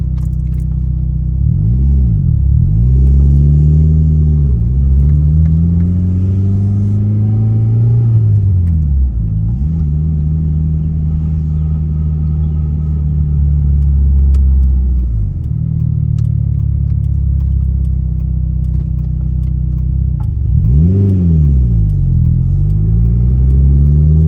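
A Mitsubishi Lancer Evo IV with a manual gearbox drives home, heard from inside as a loud, constant engine drone whose revs climb and dip through several gear changes, with no talking.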